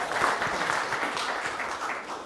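Applause rises from the audience at a London investor evening after a company talk: steady, moderately soft clapping from a room of people, with individual claps faintly distinct in the texture.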